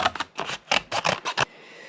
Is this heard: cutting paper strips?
yes